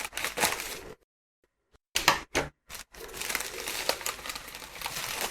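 Plastic packaging for a Sabinetek SmartMike+ Bluetooth microphone crinkles and crackles as it is cut open with scissors, busy rustling bursts broken by a second of silence and short snips, no talk.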